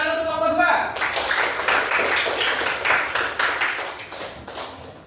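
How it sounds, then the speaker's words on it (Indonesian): A classroom group claps for group 2 after its presentation: dense, close applause that builds and then fades, with a voice speaking in the first second. "Tepuk tangan untuk kelompok 2."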